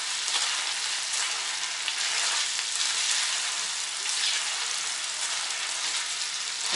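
Meat frying in a skillet with onions, sticking to the pan, gives a steady close hiss and crackle of sizzling that runs unbroken throughout.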